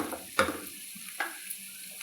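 Masala paste with curry leaves frying in a pan for okra masala curry: a soft, steady sizzle with two brief stirring scrapes, close and fairly quiet.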